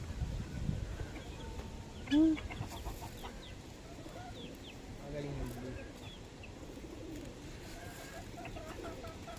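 Pigeons of assorted breeds gather at scattered feed outdoors, giving soft coos and clucks with one brief louder call, while a person talks nearby.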